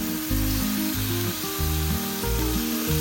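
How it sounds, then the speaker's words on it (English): Beef sizzles as it fries in a pan with only a little oil, a steady hiss for a few seconds with tonal background music running underneath. "then added the beef to fry."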